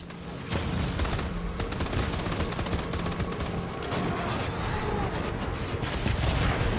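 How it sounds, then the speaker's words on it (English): Constant battlefield gunfire in the video game Death Stranding, dense overlapping shots and bursts crackling without pause, loud and continuous from start to finish. "We're just in a random battlefield."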